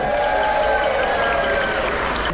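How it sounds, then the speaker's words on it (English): Guests aboard the Regal Princess cruise ship applaud at a gathering on a sea day, a thick crowd of clapping that rolls on steadily for a couple of seconds, with faint voices mixed in. "Give yourself a round of applause."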